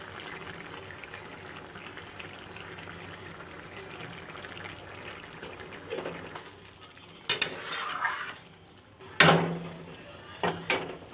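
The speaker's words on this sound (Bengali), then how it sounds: "এবারে দিচ্ছি ডিম ভুজি করে দিয়ে রেখেছিলাম।" Beaten eggs go into a pan for egg tadka, with a soft wet pour and sizzle under a low background hum, followed by sharp metal spatula scrapes and clinks against the pan.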